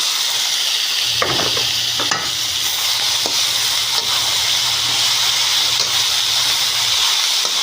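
Kangkong meets a hot frying pan of tinapa (smoked fish), onion, garlic and tomato for adobong kangkong. A steady, loud oil sizzle and hiss run throughout, with occasional light stirring clicks and a low hum underneath.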